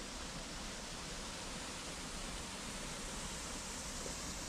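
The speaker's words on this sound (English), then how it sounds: "The water still moving under the ice." Water keeps flowing beneath the ice of a 25-foot frozen waterfall in winter, producing a steady broadband rush that stays even and unbroken throughout, with no voices.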